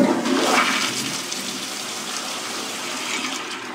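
A vacuum toilet in Canada flushes with a loud, forceful rush of sucking air and water that tapers into a steadier, softer hiss of the bowl refilling, with no voices.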